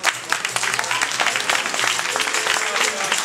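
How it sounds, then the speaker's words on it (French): Steady applause from a crowd, dense overlapping claps throughout, with a voice faintly underneath. "Je les applaudis très fort."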